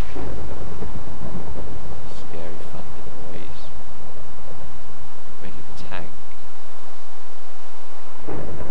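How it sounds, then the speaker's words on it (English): Loud, rumbling thunder crashes and rolls in a Minecraft world, with a rain-like wash behind it, before cutting off near the end. "Scary thunder noise."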